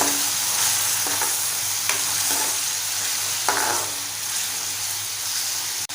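Finely chopped tomatoes sauté with softened onion for a prawn rice dish, giving a steady broadband sizzle with a few soft stirring clicks scattered through and a brief dip near the end.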